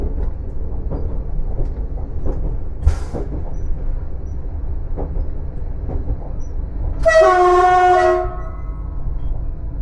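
TER regional train running on the Beauvais to Le Tréport line, heard from the cab: steady rumble of rolling stock with periodic rail-joint clicks, then a loud sustained horn blast near the end, no talk.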